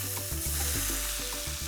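Carne asada sizzles steadily in a hot pan, a close, dense crackling hiss with a rhythmic music bed underneath.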